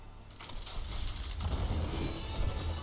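Summer Games loot box opening in Overwatch, a building mechanical whir and ratcheting clatter that swells into a bright, shimmering burst, heard alone with no talk.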